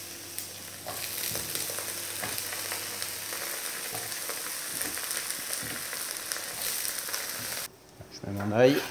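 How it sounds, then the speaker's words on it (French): Courgette slices fry in olive oil in a pan with a steady, soft sizzle and crackle throughout, and a voice speaks briefly near the end. "Je vais faire revenir mes courgettes dans de l'huile d'olive."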